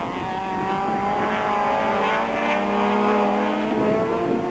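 Touring cars from the 1994 South African Touring Car Championship at the East London circuit roar past in a bunched pack, engines howling loud and close with a rising and falling drone for several seconds, no talk.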